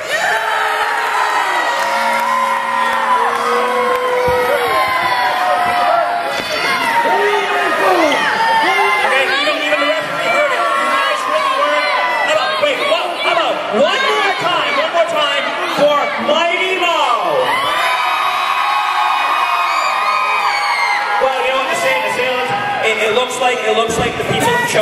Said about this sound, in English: Let's hear you cheer.